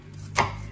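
A single knife chop through an onion on a cutting board: one close, crisp thud over a quiet kitchen background.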